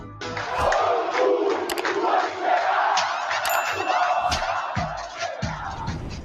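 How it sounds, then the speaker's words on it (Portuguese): Vasco da Gama supporters in the São Januário stadium chant and cheer loudly near the end of a match against Bangu, a massed roar of voices with rhythmic surges and scattered bangs. "Eu quero que você preste muita atenção na empolgação da torcida do Vasco já no fim do jogo contra o Bangu"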